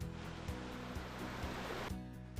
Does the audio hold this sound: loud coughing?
no